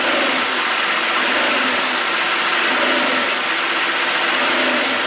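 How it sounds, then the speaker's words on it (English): A car engine with a bad engine mount revs steadily under throttle, a loud, sustained mechanical roar with no break and no voices. "go ahead and give it some throttle."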